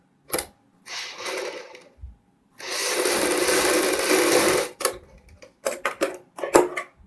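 A sewing machine stitches a kurti collar together with buckram, giving a short burst, then a longer steady whirring run, with sharp clicks and handling noises around it, loud and close, no voices.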